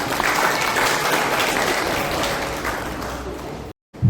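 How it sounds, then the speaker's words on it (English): A graduation ceremony audience breaks into applause, with thick, close clapping that holds steady for nearly four seconds before cutting out abruptly into a brief silence. "So over to Alejandra, please give her a round of applause."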